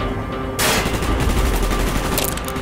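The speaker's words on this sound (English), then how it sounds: "Gunfire's drawing attention." Sustained gunfire in Call of Duty: Black Ops, a dense rattling fusillade that bursts in loud and close after a brief lull and keeps going to the end, with no voices.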